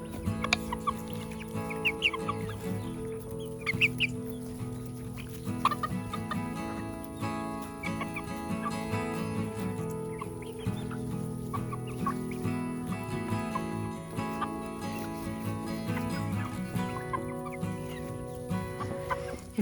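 Hens clucking steadily with a Brahma rooster among them in a backyard flock, a dense, continuous chorus of overlapping clucks and calls close by throughout.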